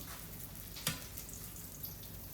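Green tomatoes frying in a pan, a continuous broad hiss of sizzling oil with one sharp clink of a utensil partway through.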